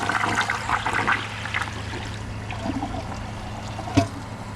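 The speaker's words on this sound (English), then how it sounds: "I'm going to give it a second flush after the tank is full." A Kohler Highline Arc toilet, clogged, gets a second flush: water rushes and gurgles close up, then fades to a trickling refill, with one sharp clunk near the end.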